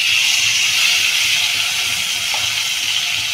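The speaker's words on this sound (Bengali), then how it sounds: "আর মাছের প্যাটাটাও ভেজে নিচ্ছি পুরোটা মাছের তেলে" Ilish (hilsa) fish belly frying in its own fish oil in a Bengali kitchen gives a steady, close hiss and sizzle that holds evenly throughout with no talking.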